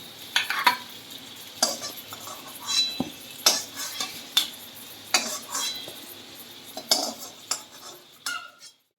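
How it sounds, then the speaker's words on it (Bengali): Fried papaya pieces are scooped out of hot oil in a pan, with a steady sizzle under repeated sharp scrapes and clinks of a metal spatula, close and distinct. "পেঁপে আমার ভাজা হয়ে গেছে এবার আমি তুলে নিচ্ছি"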